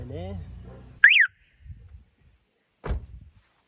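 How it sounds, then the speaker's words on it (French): A 2001 Toyota Echo sounds a single brief, sharp, warbling horn chirp, heard close, between quieter voice-like sounds and a later dull thump. "c'était mon klaxon de mon Toyota Echo 2001"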